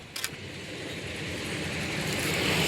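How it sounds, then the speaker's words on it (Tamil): Vehicle passing on a rural road near grazing livestock, a steady engine and tire rumble building louder as it approaches. "வண்டி வந்தபடியே இருக்குதுப்பா"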